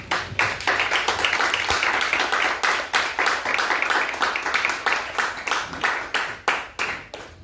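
A church congregation claps in a quick, steady rhythm, a dense burst of many hands that carries on unbroken with faint voices mixed in underneath.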